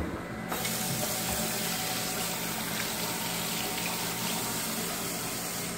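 Hot water runs from a tap into a sink in a house being checked at move-out, a loud, steady close rush that starts suddenly and continues without talking.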